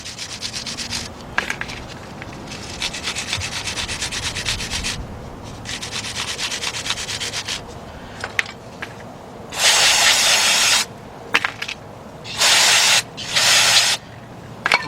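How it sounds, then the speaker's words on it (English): Cleaner sprays on front brake caliper pins during a Ford Bronco, E150 or F150 pad replacement. Bursts of hissing spray alternate with rubbing and scrubbing on the pins, loud and close, with no one talking. "Now spraying it and cleaning up"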